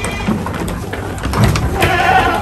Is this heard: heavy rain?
no